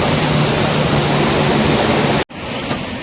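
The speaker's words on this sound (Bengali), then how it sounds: "ঝর্ণাটা আপনাদের একটু দেখাই।" Mountain waterfall on the Amarnath trail, a steady, loud broadband rush of falling water filling the whole clip close by, cut by a brief dropout near the end before the roar resumes.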